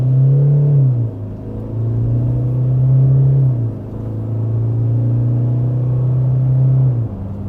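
A 2021 Toyota HiLux SR5 dual cab ute accelerating hard from 0 to 100 km/h, a loud, close engine drone rising in pitch through several gears, with brief dips at each change.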